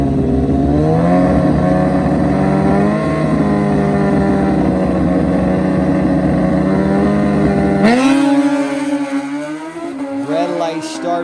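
Drag racing motorcycles, including a green Kawasaki, launch down an NHRA strip. Loud engine roars rise and shift in pitch as they accelerate, then cut off sharply before another engine swell starts near the end.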